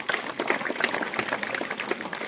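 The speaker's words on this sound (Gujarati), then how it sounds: "આપણે તાળીઓથી વધાવતા રહેશું" Steady applause from a crowd at a farewell ceremony, many hands clapping continuously at an even level throughout.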